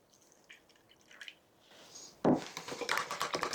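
Water poured into a measuring cup holding flour and an egg for a Philips 7000 Series pasta machine, with faint drips, then a brief trickle and a louder splashing pour.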